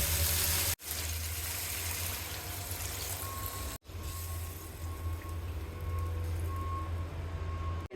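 Water gushes into a pan of frying curry for a koi fish and bean seed jhol, a loud sustained hissing pour with a couple of abrupt breaks and no speech.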